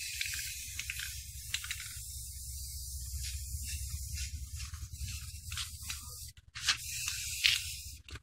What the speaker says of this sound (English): So I'm going to finish spraying with the silver